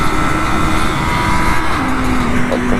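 A 2022 BMW S 1000 RR superbike engine runs loud and close, a steady high-revving drone with a rising pitch late on, held throughout without a break.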